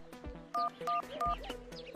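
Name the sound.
phone being dialed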